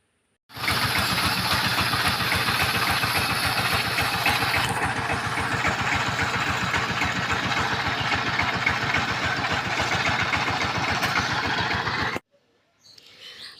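A tractor ploughing a field among medium-sized mango trees for rice planting, its engine chugging in a steady loud mid-pitched idle-like rhythm that runs nonstop before cutting off abruptly near the end.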